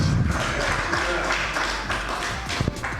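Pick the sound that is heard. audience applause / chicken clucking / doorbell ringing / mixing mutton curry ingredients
audience applause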